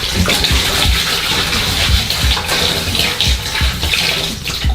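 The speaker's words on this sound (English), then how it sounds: "So first we're gonna add the vinegar." Liquid vinegar pours steadily into a washing machine drum with a little water already in the bottom, a loud continuous gushing, splashing stream close up that lasts throughout.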